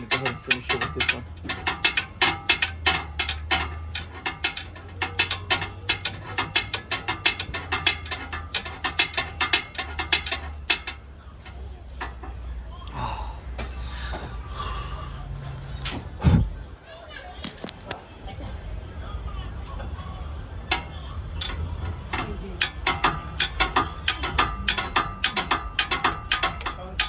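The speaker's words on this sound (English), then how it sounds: "I'm gonna use a smaller socket now, so I'm just gonna go ahead and finish it with this one." Socket ratchet wrench loosening a bolt during an oil leak repair, rapid close clicking in long bursts, pausing mid-clip for a clank and handling noise before the clicking resumes, with talk at times.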